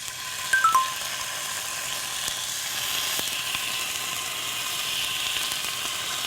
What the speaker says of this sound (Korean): 이렇게 고기가 들어가면서 지글지글 익는 소리가 너무 맛있는